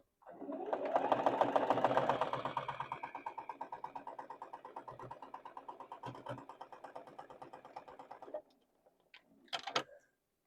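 A sewing machine stitching a seam: a close, rapid, even mechanical whir that runs for about eight seconds and gradually slows, then stops, followed by a short second burst with some clicks.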